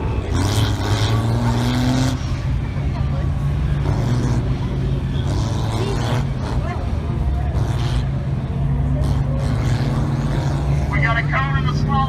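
A 1966 Impala with a diesel swap launches hard on an autocross course, its engine a loud, steady low roar running through the whole stretch, with people talking over it.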